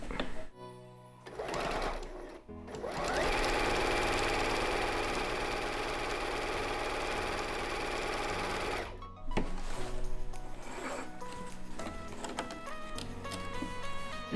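A sewing machine topstitches a fabric toothbrush holder, its needle motor whirring loudly and steadily for several seconds, stopping briefly, then running again in shorter bursts.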